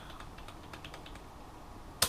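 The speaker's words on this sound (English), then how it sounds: "At the moment I only have keyboard controls." Computer keyboard keys clack in quick, light bursts while an arcade machine build is tested, with about two seconds of soft, close typing ending in one sharper click.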